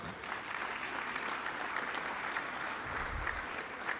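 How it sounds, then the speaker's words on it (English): Audience applause fills a symposium hall, a steady, dense wash of many hands clapping that holds at an even level for about four seconds with a slight low rumble near the end. "Let's give that a round of applause."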